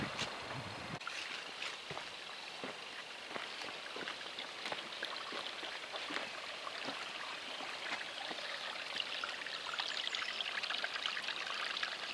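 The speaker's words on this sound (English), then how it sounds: "Lovely sound of flowing water down" Baughurst Brook in Hampshire flows along steadily with a bright babbling trickle, moderately close, broken by small splashes and faint knocks.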